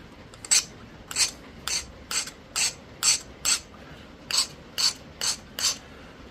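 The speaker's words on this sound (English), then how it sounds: "I need to file this off." A file scraping burrs off a piece of Flint River chert during flintknapping: about a dozen crisp, evenly spaced rasping strokes, close up and moderately loud, with quiet gaps between them.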